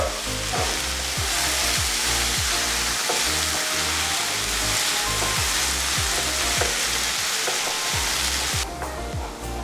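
Red gongura sorrel leaves fry in a pan on a low flame, giving a dense, steady sizzle and crackle with rhythmic scraping as a ladle stirs and mashes them.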